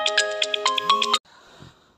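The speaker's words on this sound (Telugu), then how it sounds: "సారీ ఫోన్ వచ్చింది అందుకని మీకు సౌండ్ వినిపించింటుంది" A phone ringtone plays a bright, chiming melody of repeated tones for about a second, close and clear, then cuts off abruptly, leaving faint room noise.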